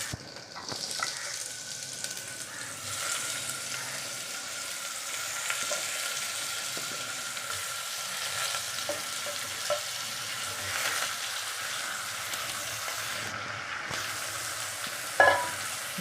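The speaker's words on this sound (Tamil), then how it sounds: "இப்போ நம்ம எடுத்து வச்சுருக்க மாங்காவை இதில் போட்டுக்கலாம்" Raw mango pieces frying in hot oil over a medium flame, a steady loud sizzle under occasional stirring scrapes, continuous throughout with one sharp clink near the end.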